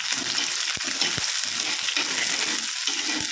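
Onion and green chillies fry with ginger and garlic in a pan, a steady loud sizzle with occasional stirring scrapes and taps throughout.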